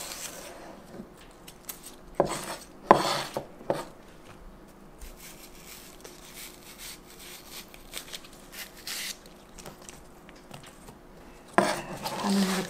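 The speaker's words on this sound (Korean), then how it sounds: "대파는 반으로 이렇게 갈라주세요" A knife on a cutting board splits a Korean green onion in half lengthwise, making a few sharp scraping slices and taps among quiet handling sounds.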